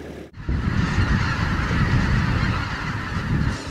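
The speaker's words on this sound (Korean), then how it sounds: "수많은 철새들이 잠깐 이 알부페라에서 휴식을 하고 간다고 합니다" A large flock of migratory birds, including mallards, fills Albufera lake in Spain with a dense, continuous chorus of honks and calls that sounds steady and loud across the whole stretch, with no talking.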